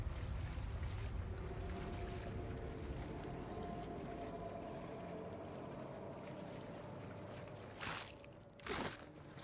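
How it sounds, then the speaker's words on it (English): A distant waterfall in Pillars of Eternity 2: Deadfire gives a steady, broad rushing roar like wind and surf, fairly faint and unbroken, with two brief sharper swells near the end. "Waterfalls echo in the distance below."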